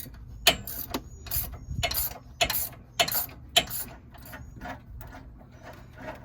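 Hand ratchet loosening the 18 mm factory sway bar link on a 2023 Jeep Wrangler, a series of short, close metallic clicks and clunks in an uneven rhythm, with no talking.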